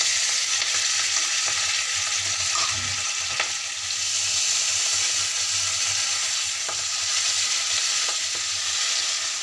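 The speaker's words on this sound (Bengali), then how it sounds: "এবার আমি এতে একে একে মাছগুলো ছেড়ে দেবো।" Rohu fish pieces frying in hot oil in a wok, a steady loud sizzle and crackle with occasional sharper pops, continuous throughout and close by with no talking.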